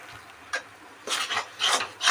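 Fried masoor dal filling is stirred in a pan, with short scraping, rasping strokes of the spoon coming in a few bursts and growing louder toward the end.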